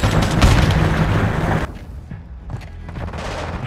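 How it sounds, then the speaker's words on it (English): A stun grenade detonates in Call of Duty: Modern Warfare on the Vondel waterfront map, a loud dense burst of blast and crackling gunfire for about a second and a half, then quieter scattered shots and impacts. "Throwing a stun grenade!"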